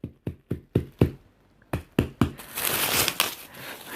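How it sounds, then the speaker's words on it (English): A package being unwrapped up close: a run of sharp knocks and taps on the packaging, then a dense stretch of loud crinkling and tearing of plastic wrap. "Let's unwrap this."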